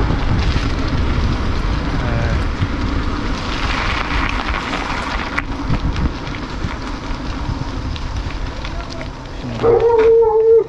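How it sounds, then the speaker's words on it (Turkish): A dog barks and howls near the end, alongside a mountain bike ride on a cold trail, under steady rushing wind and riding noise. "Şimdi köpek avlayacak."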